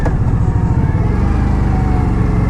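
A 2016 Indian Scout motorcycle runs steadily while being ridden, its engine a continuous low, throbbing rumble with a faint rhythmic pulse and rushing wind noise, held at an even level without any rev changes.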